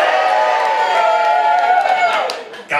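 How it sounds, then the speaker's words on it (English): A comedy club audience cheering and whooping loudly, a dense, sustained crowd roar that fades near the end. "Guys, don't cheer just yet."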